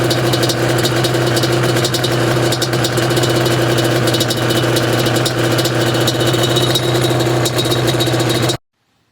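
A warmed-up two-stroke motorcycle engine runs loud and steady up close, a constant buzzing drone with a slight rattle that cuts off abruptly at the end.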